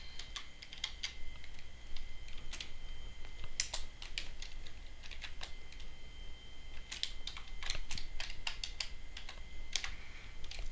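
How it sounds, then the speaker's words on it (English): Quick, irregular clatter of keys on a computer keyboard, close and fairly quiet, in bursts and short pauses like someone entering lines of code, with no voices. "I lost my place while I was typing"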